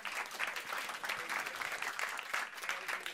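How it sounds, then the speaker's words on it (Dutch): An audience applauds at a live evening stage event, with dense, steady clapping from a large crowd filling the whole moment without a break. "Applaus."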